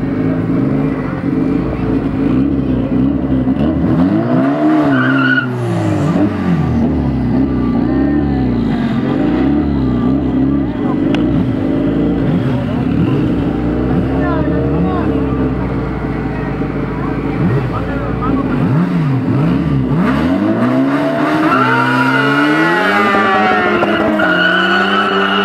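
Motorcycle and car drag racing in Santa Ana Maya, Michoacán, with a Mini Cooper among the cars: loud engines scream through rising and falling gears at close range, a sustained roar interrupted by shifts, with people talking over it.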